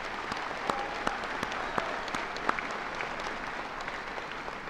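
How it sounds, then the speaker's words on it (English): A graduation audience at a technical college ceremony applauds faculty members, a sustained, fairly distant patter of many hands with a few sharper claps standing out. "if we could give our faculty members a big round of applause"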